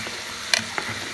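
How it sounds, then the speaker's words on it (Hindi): Beans and peas frying in a pan, a faint, steady sizzle broken by two brief stirring clicks near the middle. "अभी ये सब्जी फ्राई है"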